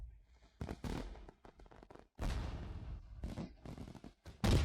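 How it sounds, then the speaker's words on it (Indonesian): Fireworks burst during a dramatized New Year celebration scene, a series of sharp cracking explosions and crackling bursts in separate clusters, loud and close, with no speech over them. "Untuk menonton kembang api."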